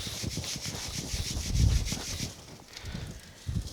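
Facing sand is shaken through a riddle onto a casting pattern for cast iron, giving a gritty, rhythmic rubbing and rustling that comes in quick repeated strokes, close and moderately quiet.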